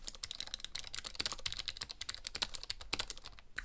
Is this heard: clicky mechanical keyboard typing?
yes